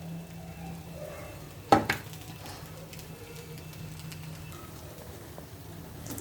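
Flaky dough fries in a little oil in a pan, giving a faint, steady sizzle throughout, broken once near the start by a short clatter of a utensil against the pan.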